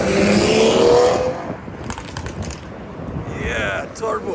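A turbocharged car revs loudly as it passes close by on a night street near Palace Square in St. Petersburg, its roar fading and then rising again with a second revving surge, while people talk.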